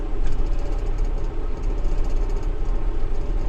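A 90-horsepower Valtra A95 tractor with manual transmission and a front loader idles nearby, its engine giving a steady, low, continuous rumble throughout.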